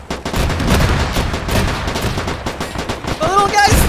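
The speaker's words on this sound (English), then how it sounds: "That AA gun's now suppressing them." Anti-aircraft gun in the video game Arma 3, firing a dense, continuous burst of rapid booming shots that fills the whole short stretch, loud and close.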